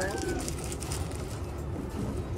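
Soft pigeon cooing runs low beneath a steady wash of background noise.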